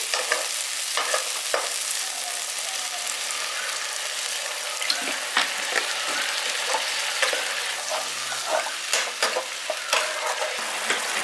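Tomatoes stir and fry in a pan for a village-style dahi pabda fish curry, a continuous loud sizzle broken by repeated spatula scrapes and clinks, close and busy throughout.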